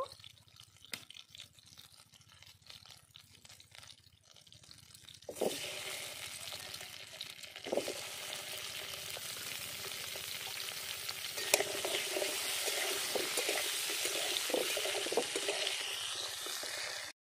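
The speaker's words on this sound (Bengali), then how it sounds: "দিয়ে দেবো একটু সর্ষের তেল। আর আলুটা আমি ভেজে নেব।" Potatoes frying in mustard oil in a pan: a quiet start, then a loud, steady, crackling sizzle that swells when the potatoes go in and continues without pause for over ten seconds.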